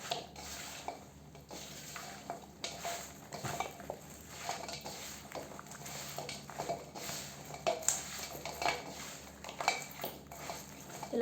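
Mango pickle pieces being mixed by hand or spoon in a bowl, giving soft wet stirring and light clinks against the dish, steady and close with no talking.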